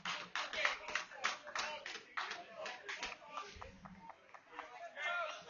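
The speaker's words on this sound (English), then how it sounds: "rightfully gets a round of applause as he comes off" Spectators at a UCL Premier Division North football match between Harrowby United and Wisbech Town applaud as a substituted player leaves the pitch; scattered, moderately distant clapping with irregular bursts over faint background chatter.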